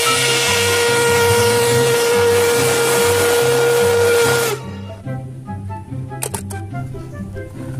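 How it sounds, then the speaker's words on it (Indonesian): Toy steam locomotive gives a long, loud, steady whistle with hiss, which cuts off abruptly and leaves a quieter mechanical hum with a few brief clicks. "lihat ada lokomotif kereta api"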